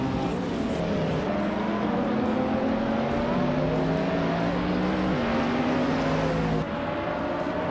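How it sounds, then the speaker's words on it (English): Race cars, including a 2003 Dodge Viper RT10, pull away at the start of a race, a dense steady engine roar with rising and shifting tones as they accelerate, continuous throughout with no talking. "the race is underway at Nonstop, and Marcus is on pole"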